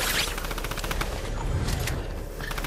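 Sustained rapid gunfire in the video game Fortnite, a dense, continuous fusillade of shots rattling close and loud across the whole moment with no talk.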